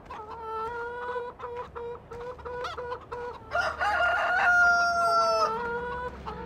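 Chickens in the video game Farming Simulator 2013 cluck steadily in a repetitive, slightly synthetic pattern, with a brief rooster-like crow partway through.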